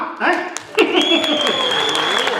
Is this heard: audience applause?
yes